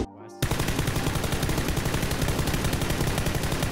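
M4 rifle fitted with a grip firing in PUBG, a loud sustained automatic burst of rapid, evenly spaced shots starting abruptly after a short quiet moment and continuing to the end.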